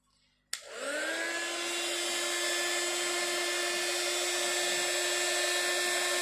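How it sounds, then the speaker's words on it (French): A heat gun switches on with a sharp click and then blows a steady, loud, high-pitched whirring rush of air without pause, warming embossing powder on a handmade stained-glass-window card. "je vais venir faire chauffer ça avec mon heat gun"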